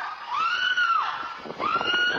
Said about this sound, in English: woman screams, captured by home surveillance camera